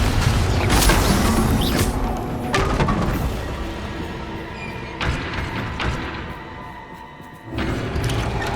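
Confringo blasting spell explosions in Hogwarts Legacy, a loud booming burst at the start followed by several more heavy thuds and rumbling impacts spaced a few seconds apart.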